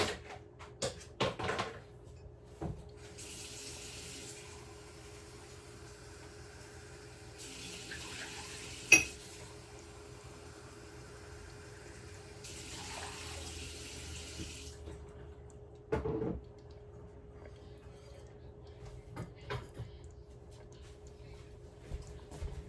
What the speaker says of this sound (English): while I was filling water